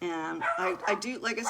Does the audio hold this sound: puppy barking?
yes